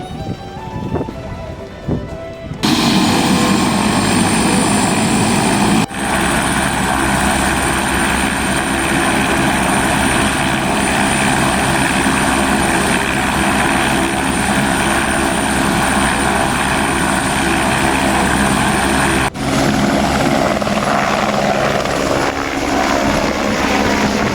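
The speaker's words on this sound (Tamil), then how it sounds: "ஏலகிரி மலையில் திடீரென ஹெலிகாப்டர் வந்து இறங்கியது" A helicopter lands on Yelagiri hill with a loud, continuous rotor and engine drone. The sound holds steady throughout, broken only by a few abrupt cuts.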